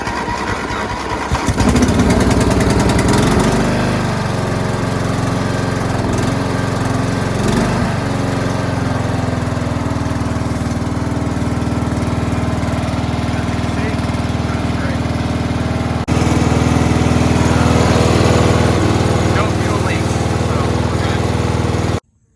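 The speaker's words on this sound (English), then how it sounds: "here we have this 4 horsepower Quattro Briggs & Stratton engine on this mower" A riding lawn mower with a 4 horsepower Quattro Briggs & Stratton engine fires up and runs close by. It settles into a loud, steady, buzzing idle that holds for over twenty seconds, then cuts off abruptly.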